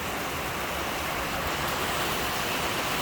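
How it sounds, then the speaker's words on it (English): Rain falls steadily on a tin roof, making a dense, even hiss that stays unbroken throughout with no voices. "Anyways, tin roof, rain."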